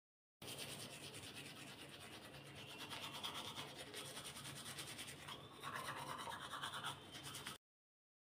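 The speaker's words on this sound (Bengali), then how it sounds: "এবার একটু দাঁত ব্রাশ করব।" Teeth being brushed with a toothbrush, a steady close scrubbing and rubbing that runs for about seven seconds with a slight change in texture partway through, no talking.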